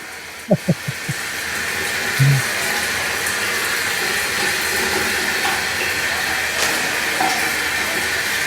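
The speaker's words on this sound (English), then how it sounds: "For those that only hear shower water, Kurt is currently disrobing inside of a bat" Shower water runs as a steady broadband hiss, preceded by a few short knocks near the start and a brief tonal squeak, continuing evenly throughout.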